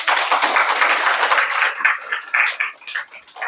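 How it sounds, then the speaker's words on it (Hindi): An audience at a spiritual gathering in Biratnagar, Nepal, claps in a dense burst of applause that gradually thins into scattered, separate claps, fairly close and with no voices. "ताली तो बजाओ।"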